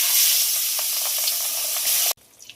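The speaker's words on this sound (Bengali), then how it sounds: "মাছ ভাজার জন্য কড়াই বসিয়েছি, তেলও দিয়ে দিয়েছি। তো মাছগুলো ভাজার জন্য দিয়ে দেবো।" Pabda fish fry in mustard oil in a wok, a loud close hiss of sizzling oil with small crackles that cuts off abruptly near the end, leaving a faint quiet sizzle.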